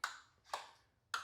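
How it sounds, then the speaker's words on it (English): An IYILO Level 2 EV charger gives three short, bright electronic beeps, each with a quick attack and fading tail, spaced about half a second apart in an otherwise quiet space. "It beeped."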